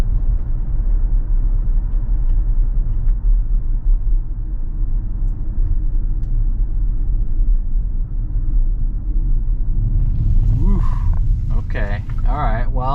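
Tesla running FSD 12.5.1.3 accelerating through a tight turn on a public road: steady low road and engine rumble that swells slightly near the end, with a voice talking over it in the final seconds.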